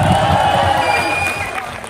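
Student audience clapping and cheering at a mimicry performance, a loud, lively crowd roar with claps and shouts that eases slightly toward the end.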